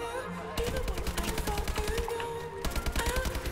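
Close, loud rapid-fire gunfire comes from a Call of Duty Domination match, in repeated automatic bursts with short gaps between them.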